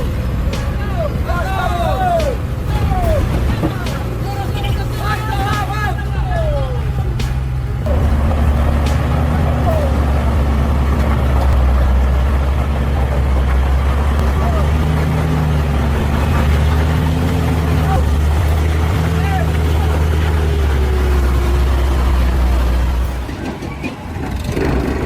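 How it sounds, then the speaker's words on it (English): An excavator tows a heavy trailer truck uphill with the engines running, giving a loud, steady low rumble that persists throughout while voices chatter over it. "Watch this giant machine pull the multi-ton load uphill."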